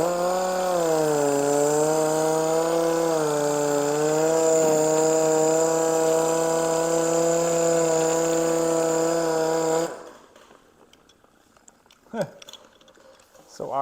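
A power sander runs steadily on BMW X5 car paint during dry sanding for texture removal, a loud droning whine with layered harmonics and slight pitch wobble for about ten seconds before cutting off, leaving faint handling noises.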